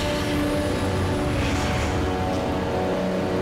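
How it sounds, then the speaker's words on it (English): A jet booster on an ATV in the Rage video game gives a loud, steady, roaring engine drone that holds constant throughout with no speech over it. "And I got a jet booster on my ATV."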